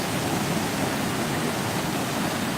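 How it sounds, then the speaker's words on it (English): Ocean waves breaking on a Tasmanian beach, a steady broadband roar of surf wash that stays loud and continuous from start to finish, with no talking. "Oh, some of these waves, that was a stunning one."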